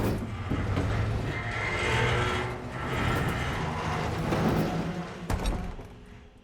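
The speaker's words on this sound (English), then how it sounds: "let's give this crank a whirl" Crank mechanism turned in the Horizon Forbidden West Burning Shores side quest, a steady ratcheting and gear-grinding clatter with soft thumps, continuous and moderately close, ending in a sharp knock.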